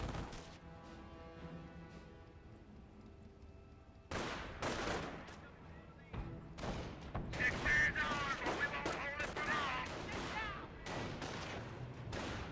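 A rifle squad in a World War II real-time strategy game, Company of Heroes, opens fire with dense crackling volleys of rifle and machine-gun shots after a quiet stretch, mixed with battlefield noise and voices barking orders.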